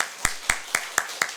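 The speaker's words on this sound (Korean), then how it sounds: "박수로 한번 환영하겠습니다." Applause from a church congregation during a Sunday morning service, heard as five crisp, evenly spaced claps in a steady rhythm, close and fairly loud.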